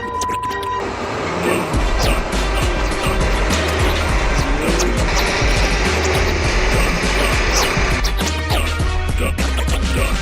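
A BMW M4 engine revs and roars loudly under hard acceleration, building in a sustained powerful drone with deep low rumble throughout, close by.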